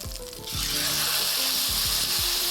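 Secreto ibérico pork sizzling loudly in a hot covered pan, a steady bright frying hiss that swells after a brief quieter start and continues without talk.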